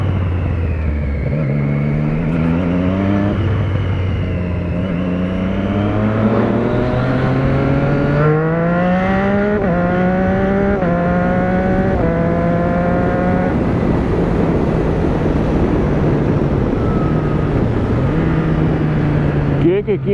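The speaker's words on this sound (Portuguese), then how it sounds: "vai fazer o motor, hein, filho?" A car engine revs repeatedly, its pitch climbing and falling in loud, close sweeps over a steady rumble, with people talking in Portuguese over it.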